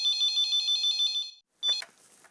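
An outgoing phone call rings on the line: a quick, repeating electronic ring pattern, briefly interrupted before another burst of ringing.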